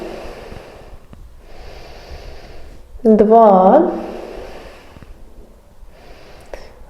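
Deep yoga breaths taken in plank pose during a vinyasa flow session: several slow, airy inhales and exhales sit close to the microphone, and a voice briefly counts aloud in the middle.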